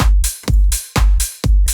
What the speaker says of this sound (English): you can then feed out a little bit of each drum just to add that bit of spice with a little bit of room reverb